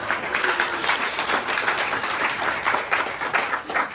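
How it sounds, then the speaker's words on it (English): Steady applause from an audience at an alligator show at the Everglades Alligator Farm in Florida, dense continuous clapping close by with no pause for about four seconds. "Give him a big round of applause"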